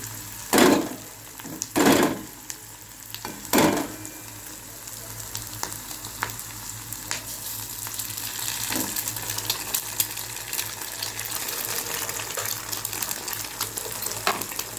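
Egg cooks in a pan with lightly fried onion and green chili, giving a continuous close sizzle after a few loud knocks and clatters at the start, with some watery hiss mixed in.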